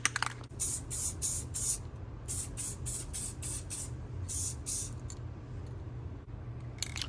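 Automotive spray paint hisses onto a metal Harley fork in a run of repeated short bursts with brief gaps, close and steady over a low background hum.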